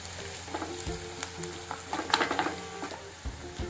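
Garlic pieces frying in a pan for tomato chutney, with a moderate crackling sizzle and intermittent stirring scrapes against the pan, heard close by.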